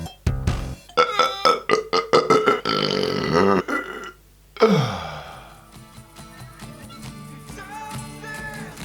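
A 27-year-old man with R-CPD, the inability to burp, lets out a series of short croaking burps followed by longer, deeper gurgling belches and a breathy sigh, close and fairly loud, with no talking.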